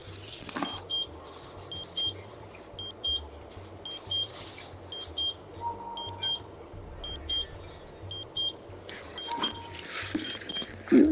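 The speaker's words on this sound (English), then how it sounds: "Any place there's a beep like that, that means there's a transmitter piece." In the Powerslave Exhumed video game on PS5, a transmitter piece gives off short high electronic beeps, pulsing at a steady rhythm of about one per second over a constant low ambient hum.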